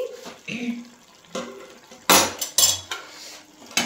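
Cooking pot holding a dry curry of small kachki fish lifted off a gas stove in a home kitchen, giving several sharp metallic clanks and scrapes of pot and utensils, close and fairly loud, with quiet pauses between.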